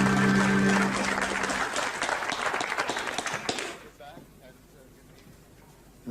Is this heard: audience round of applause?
yes